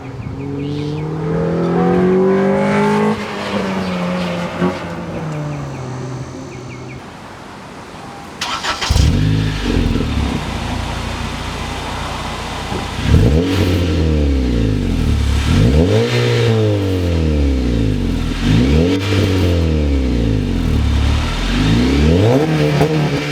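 A 2015 Honda Civic Si engine revs hard several times in quick succession, loud and close, with rising and falling exhaust roars after a quieter idling start.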